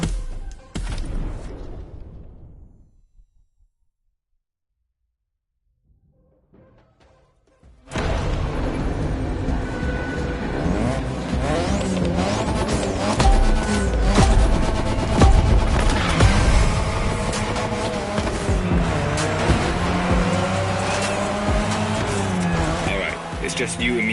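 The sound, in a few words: car racing engines and tire squeal in The Crew Motorfest video game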